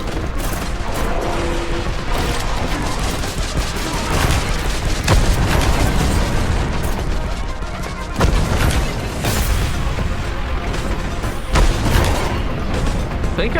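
Grenade blasts and heavy combat in the retro shooter Warhammer 40K Boltgun, a dense, loud wall of booms and gunfire with repeated sharp impacts throughout.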